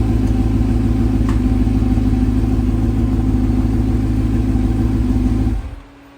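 Carbureted sportbike motorcycle engine idles loudly and steadily up close, a constant throbbing rumble that cuts off abruptly near the end as it is shut down.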